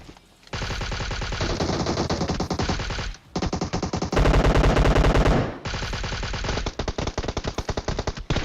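Automatic gunfire from the mobile battle royale game PUBG Mobile: loud, close bursts of rapid shots run almost without pause, with brief gaps between strings and a heavier, denser stretch in the middle.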